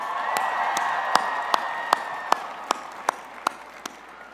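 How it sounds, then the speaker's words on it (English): Steady crowd applause from a 2018 University of Michigan spring commencement audience, a dense wash of clapping with sharp, regular louder claps punctuating it, sustained throughout. "give yourselves a round of applause"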